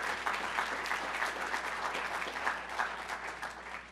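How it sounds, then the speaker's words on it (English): An audience applauds the Page family at a Hall of Fame program event, with even, continuous clapping from a sizable crowd that tapers off slightly at the end, over a faint low hum. "Let's give them another round of applause."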